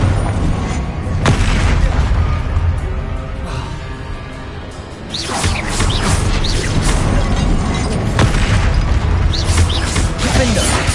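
Booming spell explosions from Confringo in Hogwarts Legacy on PS5, loud crashing bursts layered over constant game noise, with a dip midway before another heavy blast sequence.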